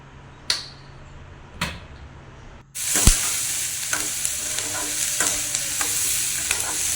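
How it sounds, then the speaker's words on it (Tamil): Cumin, cinnamon, fennel, onion and dried red chili drop into hot oil with a sudden loud burst of sizzling that continues as a steady crackle, after a few sharp knocks against the pan. "சீரகம் மற்றபடி பட்டை சோம்பு எல்லாம் உள்ள போட்டுட்டு வெங்காயத்தையும் வரமிளகாயும் போட்டு தாளிச்சிட்டு"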